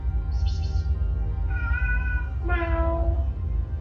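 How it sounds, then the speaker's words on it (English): A male pet cat somewhere in a kitchen gives a few drawn-out, pitiful meows, three separate cries over a low steady background hum, fairly close and clear. "my kitty is behind me somewhere and he just made the most very pitiful meow"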